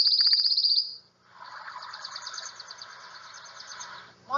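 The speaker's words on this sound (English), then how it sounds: "And here's the pine warbler." A pine warbler sings a steady, musical trill of rapid repeated notes lasting several seconds, close and clear, with a brief higher chirp series just before it.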